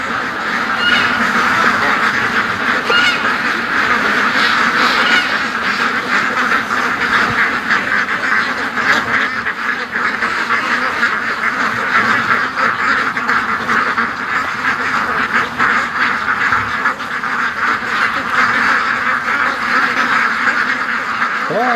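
A big group of ducks being herded toward a lake quacks nonstop at close range, a steady chattering chorus that never lets up.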